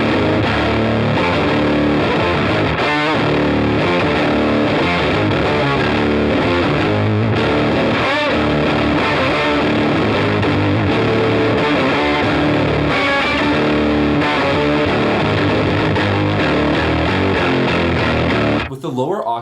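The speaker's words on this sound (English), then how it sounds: "it's basically just your guitar signal with an octave below it, so here's how it sounds" An electric guitar runs through an octave pedal that doubles each note an octave below, giving a thick, distorted, continuous riff played loud and close until it stops abruptly near the end.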